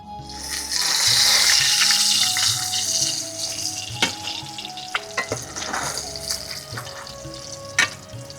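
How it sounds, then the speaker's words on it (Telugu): Eggs frying in hot oil in a pan for a Gongura egg curry, a loud bright sizzle at first that settles into steady frying, broken by several sharp spatula clicks against the pan, close up with no voices. "బాండీ కాగింది, నూనె పోసుకొని గుడ్లు వేపుకుందాం."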